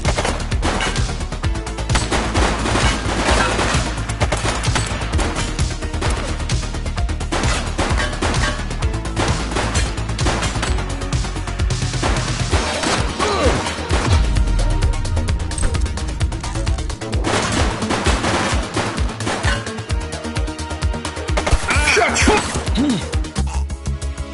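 Dense bursts of rapid gunfire fill a console shooter battle, sustained and loud throughout with occasional crashes, one shooter firing among enemies.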